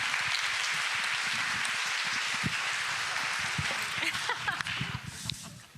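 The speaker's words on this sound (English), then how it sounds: "I would ask everyone to join me in giving a round of applause to our panelists" Audience applause for panelists at a community forum on economic mobility, dense sustained clapping from a large crowd that thins toward the end.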